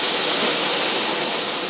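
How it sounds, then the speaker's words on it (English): A large waterfall in the Rift Valley roars with a dense, steady rushing wash that stays loud and even throughout, with no voices. "One of the world's great waterfalls flows through the heart of Rift Valley."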